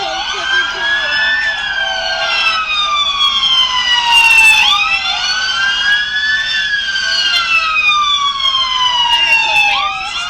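Loud sheriff's police car sirens at a Walmart in Harlan, Kentucky, several overlapping wails sweeping up and down in repeated cycles, very close and piercing, with no talk over them.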